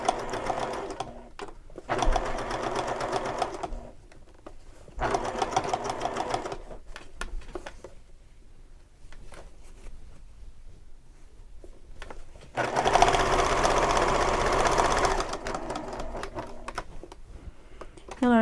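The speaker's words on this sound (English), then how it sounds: "I generally don't pin it. I just start sewing." A sewing machine stitches a seam on a shoulder bag in several loud, whirring runs of rapid needle clatter, broken by short pauses, with one longer and stronger burst near the end.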